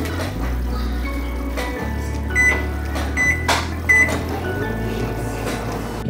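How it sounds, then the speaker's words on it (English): A microwave oven heats a cup of coffee with a steady, close, low hum that runs throughout, with a few short electronic beeps and light clicks over it and no talking. "put this in the microwave"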